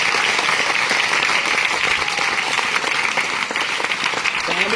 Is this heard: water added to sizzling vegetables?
no